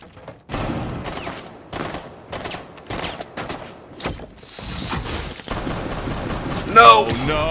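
Rapid bursts of gunfire from a first-person shooter video game, with a string of sharp, separate shots in irregular rhythm and louder clusters toward the end, heard alongside people talking.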